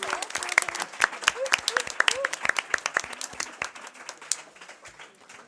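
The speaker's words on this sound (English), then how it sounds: "Let's give the candidates a round of applause." Audience at a League of Women Voters school committee and council candidate forum gives the candidates a round of applause, steady clapping with sharp individual claps that tapers off toward the end, with some voices underneath.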